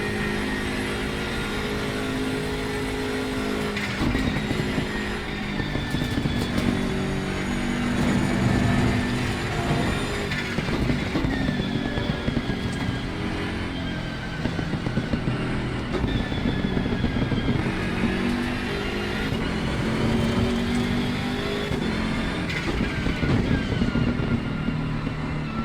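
A BMW M6 GT3 race car engine in Assetto Corsa Competizione at Paul Ricard, a continuous loud roar rising and falling through gear changes with no pauses or voices.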